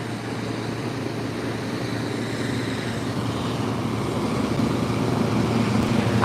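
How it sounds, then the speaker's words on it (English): Helicopters landing and lifting off along the East River in New York City, a steady rotor and engine drone mixed with city traffic hum that swells slightly louder toward the end. "I've never watched this many choppers land and take off."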